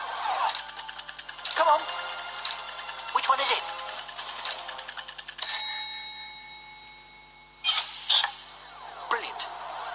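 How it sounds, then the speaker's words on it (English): A sci-fi vortex loop device powers up with warbling electronic tones, creaking mechanical bursts and a sustained hum, pulsing in uneven surges that swell and drop over about ten seconds. "Switch on the vortex loop"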